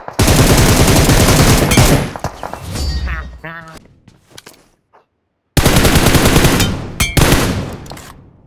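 Rapid automatic gunfire from a shooter video game, loud and close, in two sustained bursts separated by a brief lull with scattered metallic clicks and clangs.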